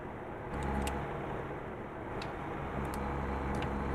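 A truck engine drones steadily at speed in the American Truck Simulator video game, a loud, continuous low hum with faint ticking clicks on top and no talk.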